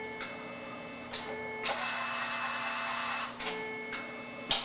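A Lectroposit lettering machine started with a foot pedal runs with a steady mechanical whir and hum, broken by regular clacking strikes about once a second, close and moderately loud, with no talk.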